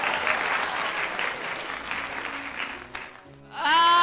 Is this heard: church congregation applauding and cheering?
yes